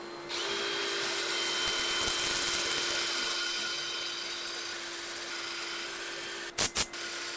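A power sander with a 5-inch disc works on wooden end grain, giving a steady high whine that swells and eases, followed near the end by two short sharp bursts.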